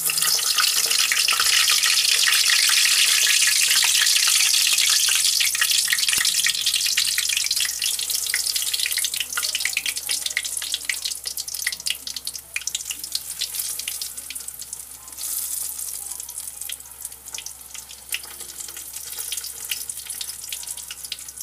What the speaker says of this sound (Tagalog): Prituhin siya hanggang mag-golden brown ang both sides.